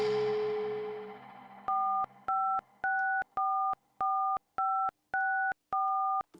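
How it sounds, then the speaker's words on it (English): A steady dial tone fades out, then a series of nine short beeping keypad tones sound in an even, stepping rhythm, each a different pitch, clear and close. "When Joko started to type in the numbers on the phone"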